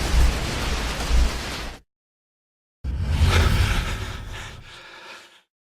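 Two loud, booming explosion blasts from a self-detonating kamikaze enemy in a video game, with a sharp silence between them, each rumbling and decaying like a game detonation.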